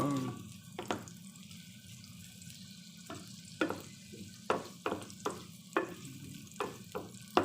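Chopped onion frying in a pan for butter shrimp, a soft steady sizzle broken by a series of sharp scraping stirs that come faster toward the end, with no talk.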